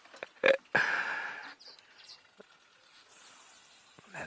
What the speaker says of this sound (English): That is the sound of the southern masked weaver.